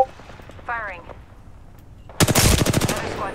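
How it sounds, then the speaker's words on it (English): Rapid automatic gunfire in an Apex Legends-style battle royale shooter erupts loudly and near in a dense burst of about a dozen shots, after quieter game sounds and a brief voice. "Firing."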